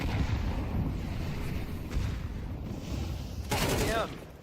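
Dense, continuous rattling gunfire from a Counter-Strike 2 match, loud and sustained, with a brief bright burst of shots and a whizzing sweep near the end.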